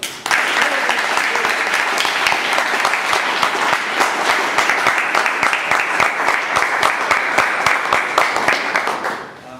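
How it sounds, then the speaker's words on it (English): Sustained audience applause from a large crowd, dense and steady for about nine seconds before tapering off at the end. "Now, please give him a round of applause."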